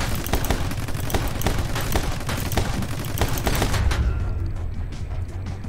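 Rapid bursts of gunfire from a shootout in My Friend Pedro, heard as dense, loud volleys of shots that pour out almost without a break, then thin out toward the end.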